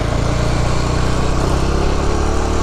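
A Bajaj Dominar 400 motorcycle engine runs with a steady, dense, close rumble, its loud, even drone holding without change and with no voices.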